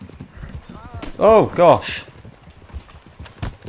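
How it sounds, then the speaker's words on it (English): Horse hooves thunder past in the game Red Dead Online, a short burst of loud clip-clop with a whinny, while a player exclaims in surprise over the galloping. "I've been run over by a horse."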